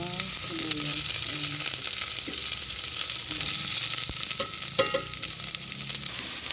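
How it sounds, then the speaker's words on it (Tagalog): Garlic and onion sauté in hot frying oil, a steady close sizzle with occasional stirring scrapes throughout. "nagigisa na ako ng bawang tsaka sibuyas."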